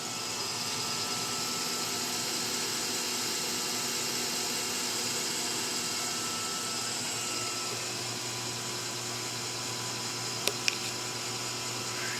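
A crankshaft balancing machine spins an Oldsmobile 455 crank at 300 RPM, giving a steady, even mechanical whir and hum with no change in pitch, broken near the end by a couple of sharp clicks.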